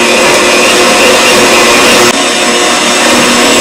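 A meat grinder grinds partially frozen venison and fat with a loud, steady, unbroken whine, and its tone shifts slightly partway through while the motor keeps running.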